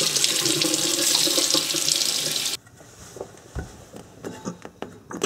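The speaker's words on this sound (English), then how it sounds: "Now I'm just going to flush some hot water through it." Hot water pours and gushes through a Kenmore Elite refrigerator drain tube, a loud steady rush of running water that stops abruptly midway, followed by quieter drips, knocks and handling sounds.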